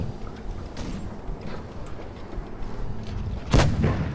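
A single loud, sharp tank cannon shot from the FV4005 in World of Tanks Blitz cracks out near the end, over a low rumbling engine bed and faint distant thuds.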